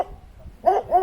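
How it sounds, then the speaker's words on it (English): A dog barks twice in quick succession, close by and loud, after a brief quiet stretch. "that was the dog barking"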